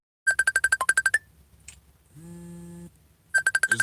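Bursts of a phone ringtone for an incoming call on an AT&T phone, a quick series of sharp repeated electronic tones, a pause with a brief sustained tone, then the ringing resumes, loud and close.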